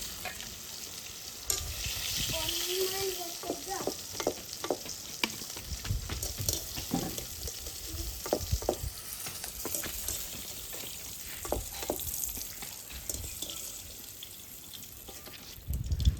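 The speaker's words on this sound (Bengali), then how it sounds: "পটলগুলো কিন্তু বেশ ভালোভাবে লাল লাল করে ভাজা হয়ে গেছে।" Pointed gourd (potol) pieces fry in oil in a kadai until reddish, a continuous close sizzle with frequent spatula scrapes and clinks as they are stirred and turned, no voices.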